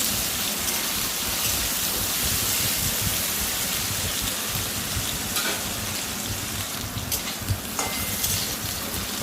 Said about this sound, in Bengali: আলুটা একটু ভাজা ভাজা করে নিচ্ছি।